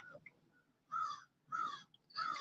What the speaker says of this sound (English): That's a crow going wild right now.